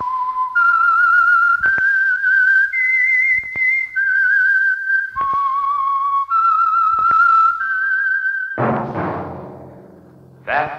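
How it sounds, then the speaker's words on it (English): Whistled theme signal of The Whistler radio mystery program, a solo human whistle carrying a slow, eerie melody of sustained notes with brief breaks, loud and close, ending in a sharp orchestral sting. "That whistle is your signal for the Signal Oil Program, The Whistler."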